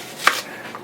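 A single sharp chop of a knife cutting an onion into quarters on a board, one crisp close strike followed by quiet handling noise.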